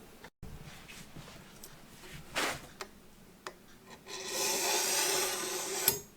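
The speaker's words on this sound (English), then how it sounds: "take a picture of Troy's hand sharpening the knife" A kitchen knife being sharpened at home, its blade drawn over a sharpener in a few short rasping strokes, then a longer steady scraping stretch near the end, close and fairly quiet with no talk.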